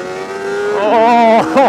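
A Kawasaki ZX-4RR small inline-four motorcycle engine revs up toward 16,000 RPM, a loud, smooth, high-pitched wail that climbs and holds, then dips and rises again in a short final burst.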